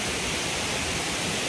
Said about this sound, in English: Waterfall, waterfall.